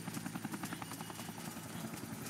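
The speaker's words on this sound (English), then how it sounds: "there's a helicopter out here" A video game helicopter gives a steady, fast rotor thump, close and continuous throughout, with no voices over it.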